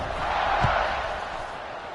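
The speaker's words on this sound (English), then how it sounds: "this crowd is buzzing after that last score" Stadium crowd at an American football game keeps up a steady, broad roar through the whole moment, with a brief swell near the middle and no clear single voice standing out.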